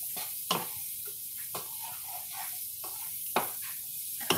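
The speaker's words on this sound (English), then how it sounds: "you just want to saute your mushrooms until they are the way that you like them" Mushrooms for chicken marsala sauté in a pan with a low, steady hiss. A few brief scrapes of stirring cut in at irregular moments, and there is no talk.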